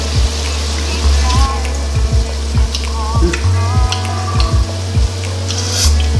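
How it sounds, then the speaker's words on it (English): A roux paste is whisked into a bubbling pork belly braising sauce, with steady close sizzling and rhythmic scraping taps of the whisk against the pot, and no one speaking. "We're just gonna put this in and we're gonna whisk it in."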